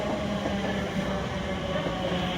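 Class 345 unit 345 030 pulling into Stratford station on a Paddington to Shenfield service, a steady, loud rumble of the train running in close by without pause.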